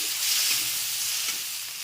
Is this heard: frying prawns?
yes